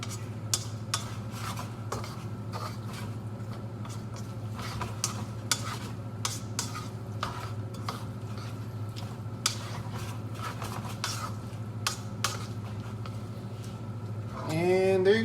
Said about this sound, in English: In goes the parsley. Mix that around.